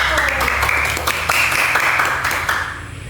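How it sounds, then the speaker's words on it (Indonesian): A classroom of students claps together for a small discussion group, a dense patter of many hands lasting about three seconds with some voices mixed in. "Tepuk tangan untuk kelompok 1."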